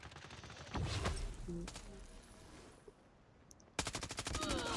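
SO-14 rifle fire in a video game: two loud bursts of rapid automatic shots, a quieter stretch with a few scattered pops, then another sustained burst at close range.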